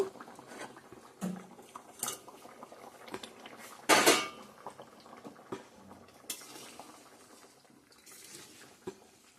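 Fish goes into a cooking pan with clattering pot and utensil clanks, a loud metallic bang in the middle, over a soft background of simmering and bubbling.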